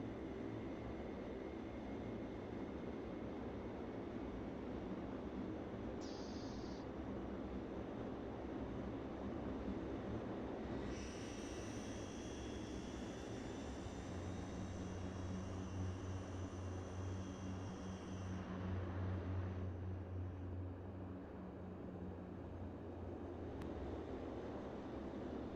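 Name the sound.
NAC Fokker F27 airplane engines while parking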